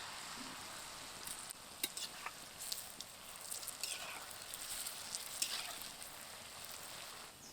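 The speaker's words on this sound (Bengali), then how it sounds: "ব্যাটারটাকে তেলের মধ্যে ফেলবো আর দেখুন গুলগুলিগুলো কিন্তু তেল থেকে উঠে আসছে" Palm fruit fritters (taler bora) made from palm pulp and jaggery batter frying in hot oil, a steady, soft sizzle with light bubbling crackles and a few sharper pops throughout, fairly faint and without talk.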